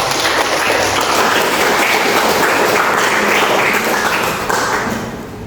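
A classroom audience at a teacher-training presentation claps together in dense, steady applause that stays loud and continuous before fading slightly at the end.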